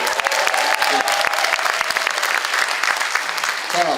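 An audience claps in a large conference hall of the National Assembly Members' Office Building, a dense, steady round of applause from many hands, with a few voices under it near the end.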